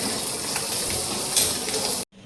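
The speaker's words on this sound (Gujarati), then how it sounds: "બધા ખડા મસાલાને આવી રીતના સાંતળી લેવાનું" Steady, dense sizzling of whole spices sautéing in a pan, loud and close, cutting off abruptly near the end.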